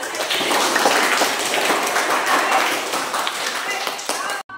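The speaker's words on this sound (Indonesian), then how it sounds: "Tepuk tangan dulu untuk kelompok yang" A training-session audience claps for a group about to present, a thick burst of applause with voices mixed in that runs for a few seconds and then cuts off.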